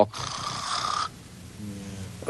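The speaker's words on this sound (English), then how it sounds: "my snoring dog that you guys hear in the background" A dog snores close by, a raspy drawn-out inhale followed by a softer, rumbling breath out.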